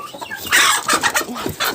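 A broody hen gives a run of low, throaty clucks and short squawks close by, uneven and agitated, with no talking.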